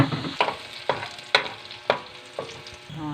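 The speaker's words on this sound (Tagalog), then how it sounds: "Hanggang sa mag-golden brown na yung bawang." Garlic fries in rendered pork fat while being stirred, a steady sizzle broken by about six sharp scraping strokes at a regular pace, close and clear with no talking.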